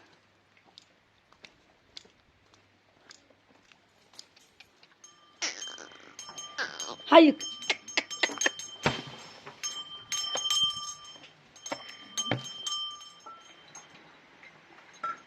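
Sheep moving into a pen during rain: quiet at first, then shuffling, clinking bells and scattered animal sounds close by, with a brief spoken word.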